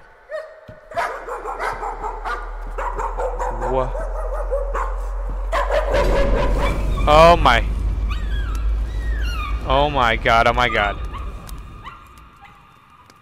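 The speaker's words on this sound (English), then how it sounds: "Dogs that better not be trying to kill me." Dogs bark, yip and whimper in the horror game Layers of Fear, close and loud, with a deep drone building underneath while a person exclaims over them.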